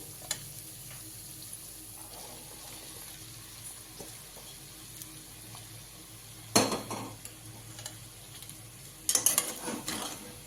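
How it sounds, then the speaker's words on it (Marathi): Soaked sabudana stirred into potatoes and chillies in a pan, a quiet low sizzle with sparse small scrapes, then two loud clattering bursts of spoon against pan near the middle and end. "आता याच्यामध्ये टाकणार आहे भिजवलेला शाबू"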